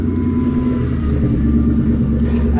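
Car engine with a newly fitted 78mm BBK throttle body, a close, loud, rumbling idle and light revving that holds steady through the short stretch without any talk.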